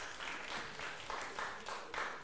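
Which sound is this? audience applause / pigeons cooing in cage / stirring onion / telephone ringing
audience applause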